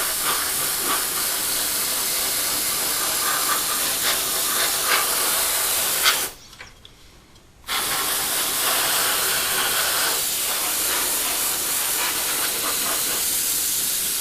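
Spray primer hisses steadily onto a Tamiya 1/35 M1A1 Abrams model tank, a continuous close airy spray that stops for about a second partway through and then resumes without talk.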